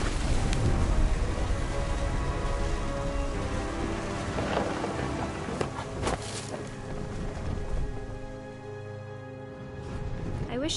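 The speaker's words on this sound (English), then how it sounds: "The thunder sounded much too close and full of angry power." Thunderstorm in the video game What Remains of Edith Finch: steady heavy rain with rolling thunder cracks and rumbles, under someone narrating, with music-like tones beneath.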